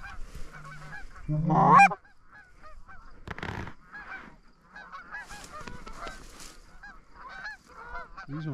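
A flock of geese honks during an early-season goose hunt in North Dakota, the calls scattered and overlapping at mid-distance, with one loud close burst near the start and a brief voice.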